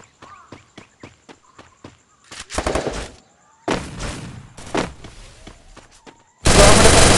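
Gunfire in the mobile game Garena Free Fire, Clash Squad mode: a quick run of sharp single shots, then several loud dense bursts of rapid fire, ending in a sustained loud blast, with game effects between them.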